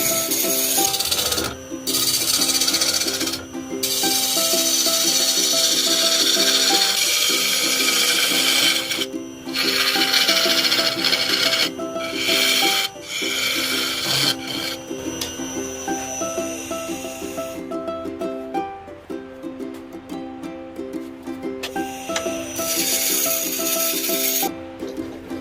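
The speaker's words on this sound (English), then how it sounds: "We will start the hollowing process." A coring jig on a wood lathe hollows the inside of a roughly 80-year-old log bowl, giving a steady, loud rasping and rubbing grind with harmonic whine, briefly interrupted by several short pauses.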